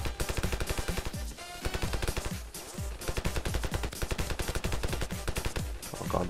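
Rapid automatic gunfire from the video game Ravenfield rattles in dense, loud bursts, with a couple of brief pauses between volleys.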